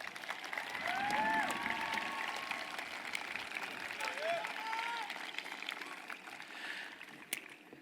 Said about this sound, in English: Graduates, please give your parents a round of applause.